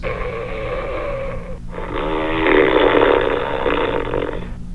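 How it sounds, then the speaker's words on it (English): A man snores loudly in two long rasping breaths, the second longer and rougher, close and alone without talk. "the blacksmith snored loudly in complete indifference"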